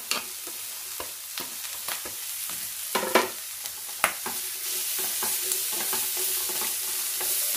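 Long beans (achinga) go into a hot pan of coconut oil with toasted spice powders and green chilli, then are stirred. A lively sizzle runs throughout, punctuated by frequent sharp spatula clacks and scrapes, close and fairly loud.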